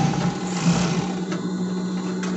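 A sewing machine runs steadily, backstitching to secure the seam on a basic knit pet-fabric blouse, a continuous close mechanical whir with a strong hum, with no talk over it.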